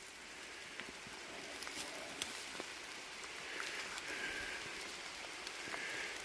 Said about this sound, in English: As you can see, it started raining.